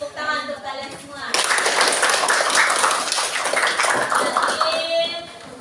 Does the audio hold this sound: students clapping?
yes